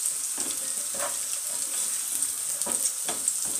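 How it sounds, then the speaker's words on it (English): Matumbo (beef tripe) dry frying in a pan, a steady close sizzle with a few soft stirring scrapes and no talk. "So you can see how dry fry matumbo can be cooked"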